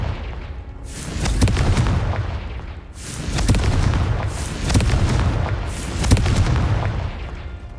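Repeated blasting-spell explosions from the Hogwarts Legacy video game, about four heavy booming bursts with crackling tails at roughly even intervals, loud and close with no speech.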